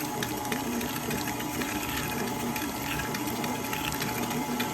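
Electric mixer stirring cheesecake sugar cookie dough, a steady continuous motor whir with a churning texture, even in level throughout with no talking.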